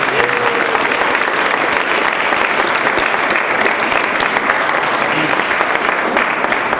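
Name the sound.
audience applause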